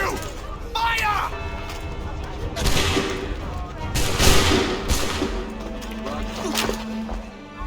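A volley of musket gunfire erupts in Assassin's Creed III, with several sharp cracks and crashing bursts spread across the scene amid shouted voices and combat noise.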